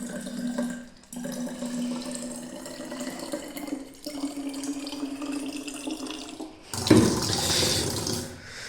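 Tap water runs steadily into a plastic bottle, a continuous splashing flow with a rising fill tone, briefly interrupted twice, then gushing louder and brighter near the end as it overflows.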